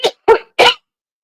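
Three short, sharp bursts close to the microphone, sounding like a sneeze or cough, each clipped and separated by brief silence.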